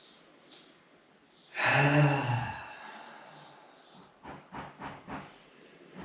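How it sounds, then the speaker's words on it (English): A long, deep breath drawn in and released during a guided meditation, loud and breathy near the mic, followed by a few softer, shorter breath puffs. "Now please take a deep breath."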